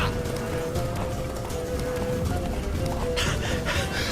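A horse gallops in The Witcher 3: Wild Hunt, its hoofbeats drumming in a steady, fast rhythm over game ambience throughout, with a brief burst of louder noise toward the end.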